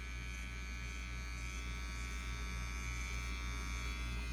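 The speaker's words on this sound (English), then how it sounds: "That is the trimmer." Electric hair trimmer running continuously close up, a steady high-pitched motor buzz with a constant tone and no variation, heard alone without voices.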